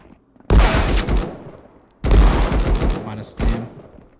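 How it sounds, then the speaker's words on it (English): Shotgun fire in the video game Marauders comes as three loud, close blasts, each followed by a ringing, echoing tail, spaced about a second and a half apart. "he's got a shotgun"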